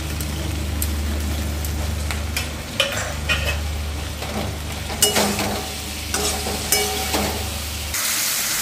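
Cinnamon, cardamom and cloves frying in a pan, a close sizzle under repeated scraping and stirring strokes with a few sharp clinks. A low hum runs beneath, and a loud hiss bursts out at the very end.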